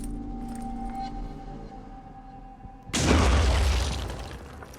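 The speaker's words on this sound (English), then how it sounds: "And toss the grenade." A grenade explodes in the Phoenix Point strategy game, a sudden loud blast about three seconds in that follows quieter game ambience and then rolls off slowly over the remaining seconds.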